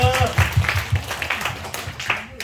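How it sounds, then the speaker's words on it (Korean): A church congregation claps in steady rhythmic unison during a Sunday service, the beats coming close and evenly spaced, with singing and voices running alongside. "우리 박수하겠습니다."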